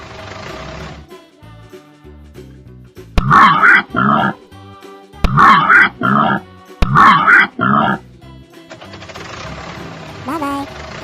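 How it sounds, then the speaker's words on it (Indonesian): A warthog grunts in three loud, rough bursts, each a quick pair of snorting grunts separated by short pauses, over light rhythmic background music in an animated animal show. "Warthog. Babi liar."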